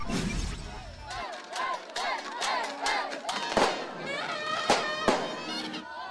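New Year firecrackers and fireworks in Tondo, Manila go off in a dense barrage of sharp, loud bangs and crackles amid a noisy crowd, with several heavy blasts standing out near the end.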